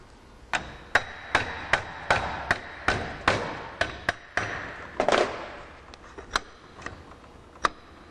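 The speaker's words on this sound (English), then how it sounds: "This may require a light tap with a hammer." Light, sharp taps from a fiber hammer repeat at a steady pace, about a dozen knocks spaced roughly half a second apart, close by and fairly crisp.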